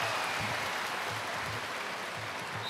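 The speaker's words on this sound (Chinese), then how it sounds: "再次掌声送给我们女排的姑娘们" Applause and crowd noise fill an arena at a 2024 Iron Man Cup women's volleyball match between Tianjin Bohai Bank and Liaoning Donggang Strawberry, a steady dense clapping wash at moderate level with no clear voices.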